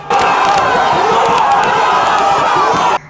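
A large crowd greets a dignitary at a public celebration with loud, continuous cheering and shouting, a dense roar held for about three seconds before cutting off.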